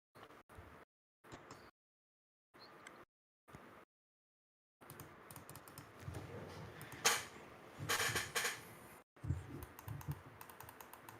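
Clicking on a computer keyboard during a gaming discussion show: brief bursts of key clicks broken by dead silences, then a denser stretch of clattering keystrokes with a few sharper, louder clicks.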